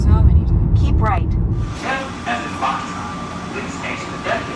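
The interior of an airport rail shuttle heading toward the rental car return rumbles heavily at first, then quiets to a hiss and hum with squeals, while people talk nearby.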